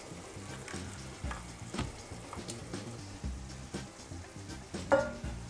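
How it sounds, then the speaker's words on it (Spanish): Spaghetti being stirred through puttanesca sauce in a pan makes soft, repeated scraping and squelching over a low simmering sizzle, nearby and fairly quiet, with no talking. "Y ahora removemos para que acaben de cocerse en la salsa."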